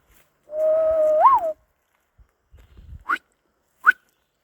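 A person outdoors on a forest trail attempts a whistle, producing one wavering, sliding tone about a second long. Faint footsteps or rustling follow, then two brief chirpy whistle bursts, with no speech.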